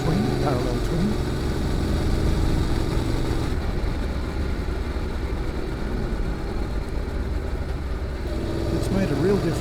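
A Honda NC750X parallel twin fitted with a GPR muffler runs with a deep, continuous engine note, steady and fairly loud throughout, with faint wind rush layered over it.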